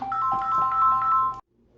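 A phone ringtone plays loudly and steadily as a bright repeating electronic melody for about a second and a half, then cuts off abruptly into near silence.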